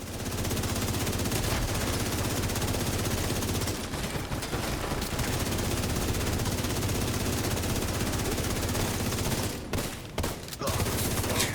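Dense video-game gunfire fills the scene while a player goes for headshots: loud, continuous rapid shooting with only brief gaps in the barrage.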